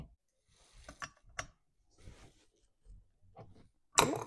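Mechanical clicks and ratcheting from tightening a spark plug on a Stihl 036 chainsaw during a repair, several close, sharp bursts spaced across the moment with a louder final snap.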